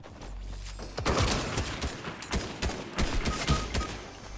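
Gunfire in the Fortnite video game's no-build mode: a steady stream of loud, sharp shots and short bursts, closely spaced and irregular, over a constant game background hum.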